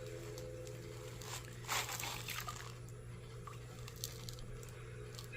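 Nepenthes carnivorous plants eased out of their pot, producing soft, faint squishing and moist rustling of potting medium and roots, quiet and close with a steady hum behind.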